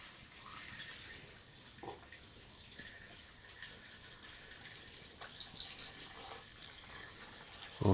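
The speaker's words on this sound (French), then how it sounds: "verser l'eau dans le bol jusqu'à fleur" Water poured from a container into a bowl of packed soil being recycled in an old kneading trough, a soft, steady trickle and splash close by, with a few faint drips and light bumps and no talk.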